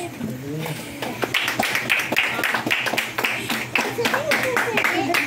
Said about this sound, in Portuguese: dar uma linda salva de palmas para Jesus